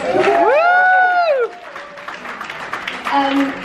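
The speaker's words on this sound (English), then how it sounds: "Give him a massive round of applause." An audience applauds during a youth arts speech, with loud sustained clapping and a rising, whooping cheer at first, then fading to a lighter patter.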